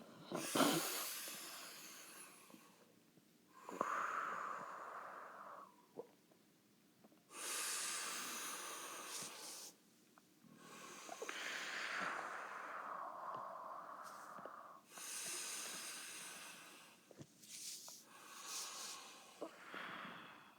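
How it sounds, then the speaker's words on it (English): A man takes slow, deep breaths in a quiet indoor room, each long airy inhale and exhale separated by short pauses, close and clear with no talking. "I'm starting it all off with 3 deep breaths. Can you breathe with me?"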